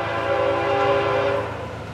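A Florida East Coast freight train sounds its horn in one loud, steady multi-tone blast for about two seconds, with rumbling rail noise underneath.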